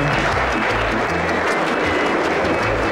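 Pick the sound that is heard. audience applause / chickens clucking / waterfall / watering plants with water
audience applause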